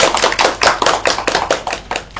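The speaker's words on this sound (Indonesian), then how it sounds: "Tepuk tangan kelompok 2." A group of students clapping together in a classroom during a micro-teaching session, with a steady run of loud, close, rhythmic claps for the whole short stretch.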